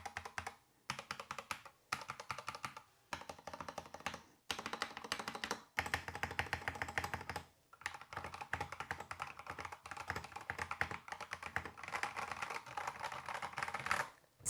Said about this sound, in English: let's give you guys a sound test for the Yunzii